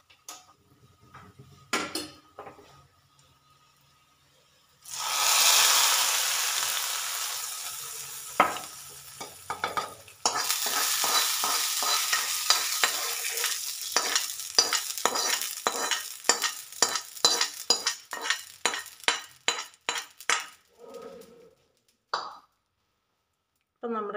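Popped mustard seeds in hot oil are poured into a papaya and ginger curry, giving a sudden loud hiss that fades into a long run of rapid crackles and pops, then a few clicks of a utensil.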